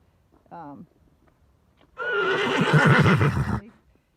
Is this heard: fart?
no